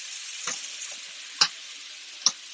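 Shrimp half-cooking in a pan for garlic shrimp scampi, a steady bright sizzle with a few sharp pops and clicks over it.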